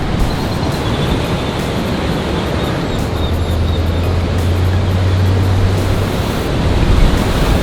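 Ocean surf at the foot of a cliff below a seaside restaurant in Cozumel, a steady broad wash of waves heard from above, continuous and fairly loud with a low rumble running underneath.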